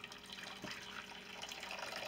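Sixteen ounces of hot water pour into a meal pouch with a continuous close splashing trickle that runs steadily throughout, with no voices.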